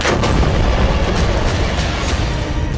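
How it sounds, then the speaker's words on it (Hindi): Bombing in Gaza rumbles in a dense, continuous barrage of heavy booms and blasts, loud and unbroken for the whole stretch. "वो बस सिनवार की मौत पुख्ता करने के लिए गाजा पर लगातार बम मारे जा रहा है।"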